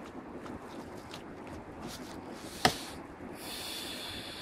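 Wind blows outdoors, buffeting the microphone with a low, steady rumble. A single sharp knock sounds midway, and a brighter hiss rises toward the end.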